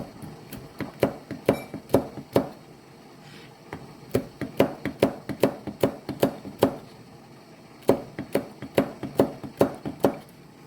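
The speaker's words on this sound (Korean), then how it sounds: "반으로 잘라서 씨를 제거하고 짧은 채를 썰어요." A kitchen knife slices zucchini into short thin strips on a cutting board, giving quick rhythmic chops in steady bursts with brief pauses, close and clear, with no voices.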